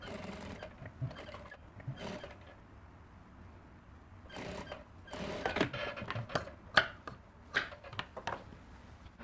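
A sewing machine stitches under the piping on the neck design of a blouse, making a faint, uneven run of clicking and whirring needle strokes that grows louder and busier toward the end.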